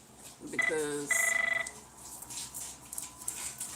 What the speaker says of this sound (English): I'm so sorry that phone is so loud